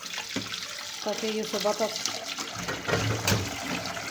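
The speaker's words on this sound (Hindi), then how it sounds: "सिंक में रख के हम इसमें पानी डाल देते हैं" Water from a tap splashes into a kitchen sink in a village home, a continuous gurgling pour heard close by under a voice speaking.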